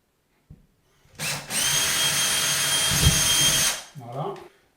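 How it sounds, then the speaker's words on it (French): An electric drill bores a hole for installing a hot-air distribution duct from a fireplace heat recovery system, a loud steady whine of about three seconds that starts and stops abruptly, with a brief voice just after. "Donc là, je perce."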